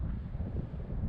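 Wind on a bare mountain slope above a river and highway, a steady low rumbling gust buffeting close to the microphone, alone with no talking.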